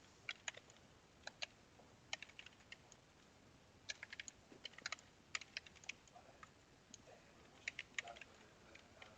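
Quiet, close typing on a computer keyboard in short irregular bursts of light key clicks separated by brief pauses, nothing else audible.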